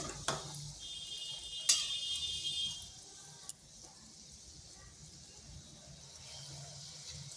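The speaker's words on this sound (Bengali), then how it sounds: "এইভাবে নেড়ে চেড়ে এগুলোকে ভেজে নিচ্ছি" Rasmanjari pitha fry in a pan as they are stirred, with a steady soft sizzle throughout and a couple of sharp utensil clicks against the pan early on.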